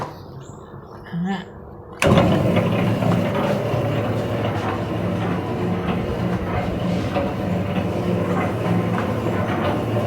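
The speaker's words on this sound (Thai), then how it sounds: "เปิดเครื่องผสมแป้ง" A dough mixer runs steadily as it kneads bread dough, with a loud continuous mechanical rumble and rhythmic churning that starts abruptly after a short quiet stretch.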